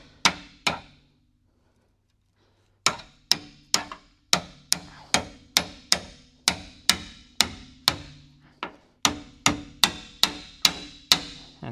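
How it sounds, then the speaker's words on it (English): A seam splitting tool is hammered between two car body panels on a 2020 Buick under rebuild, giving a sharp metallic tap followed by a long, regular series of close strikes after a short silence. "So then we can use this seam splitting tool"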